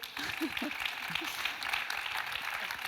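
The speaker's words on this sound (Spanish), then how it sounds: "Menos mal que aplauden también" Audience applause at a rural-themed anniversary talk event, a steady broadband patter of many hands clapping that fills the whole stretch at moderate level, with a few brief voices low underneath.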